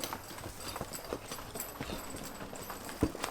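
A young colt's hooves clip-clop in a steady, relaxed rhythm around a round pen, close by and moderately loud, with one sharper thump near the end.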